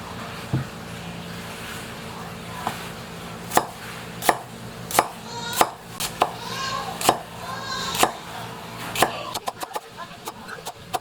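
A knife slices through an onion on a cutting board with a series of crisp, irregular knocks that speed into quick repeated cuts near the end. Faint background voices and a distant hum sit underneath.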